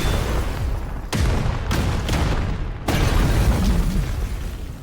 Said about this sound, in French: le canon tire une unique fois sur le poste de police, qui a heureusement été évacué juste à temps et qui explose.